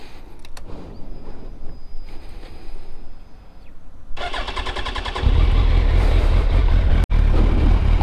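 A Suzuki GSX1300R Hayabusa fitted with an aftermarket Yoshimura silencer cranks over nearby and fires, settling into a loud, steady idle that runs to the end with no talking.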